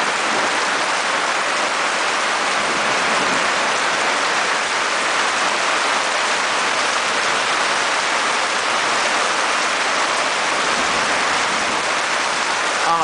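Steady rain pours down over an open field, a dense, even hiss that holds at full loudness from start to finish with no voices.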